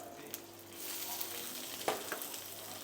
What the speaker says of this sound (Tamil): இதை ஸ்லோ ஃப்ளேமில் நல்லா சாட்டே பண்ணுறோம் நல்லா தேங்காய் எண்ணெயோடு சேர்ந்து நல்லா கம கமன் நல்லா ஃப்ரை ஆகிட்டுருக்கு